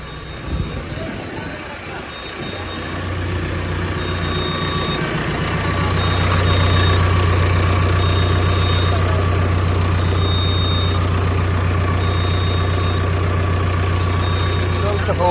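A tractor engine starts and settles into a steady, loud idling rumble, with people talking faintly over it.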